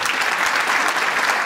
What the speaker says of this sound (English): If you would all please stand so we can recognize you with a round of applause.